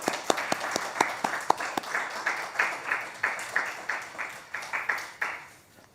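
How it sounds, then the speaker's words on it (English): A small audience claps in a sparse room: a few sharp, distinct claps at first, then a thin, uneven round of applause with individual hands audible, fading out at the end. "It's a bit strange to actually be clapping with such a small audience"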